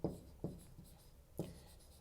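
Marker or chalk strokes on a board, with three quick scratchy taps and short scrawls in a quiet room.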